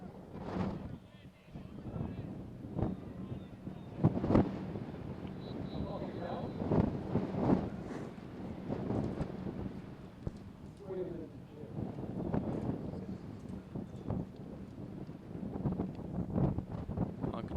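Strong gusty wind buffets the microphone at a boys' high school soccer match, a continuous low roar with rising and falling gusts throughout, heard under the steady voice of a commentator calling the play.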